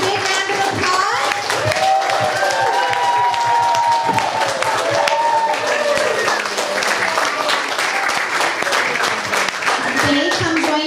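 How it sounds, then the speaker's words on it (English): A primary school audience claps steadily for child performers after a gingerbread man play, with scattered cheers and voices woven through the continuous applause. "Let's give them one more big round of applause."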